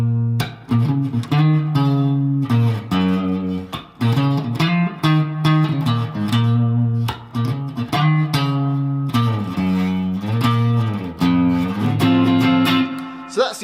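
An electric guitar plays the repeating riff of a song, punchy low notes and short chord stabs in a steady loop, loud and close with no voices.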